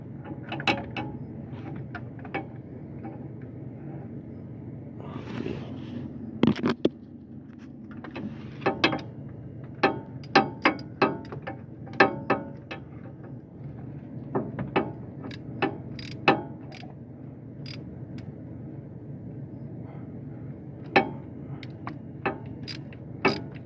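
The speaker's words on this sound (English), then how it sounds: "we can just put our socket on now and tighten it up" A socket wrench tightening an oil pressure switch on a 1999 Ford F150, sharp ratcheting clicks coming in short irregular bursts with pauses between, close up against a quiet background.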